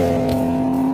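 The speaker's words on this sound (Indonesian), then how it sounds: "Wusuhan meminta kunci mobil untuk dikendarai dan dibawanya pergi menyelamatkan Yodahe" A car engine hums steadily and close by with a constant droning tone as the car is driven away, with no voices over it.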